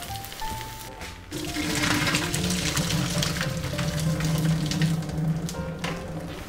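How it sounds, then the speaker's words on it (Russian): Leek sizzles in a pan and is stirred in after a brief quiet start, becoming a dense, steady hiss with scraping movement, close and moderately loud. "Самое время отправить лук-порей и перемешать."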